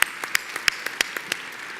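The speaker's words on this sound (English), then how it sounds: "Yes, that deserves a round of applause." A scattered smattering of audience claps at a live fundraising-professionals event, roughly a dozen separate, fairly faint hand claps spaced irregularly over a quiet room.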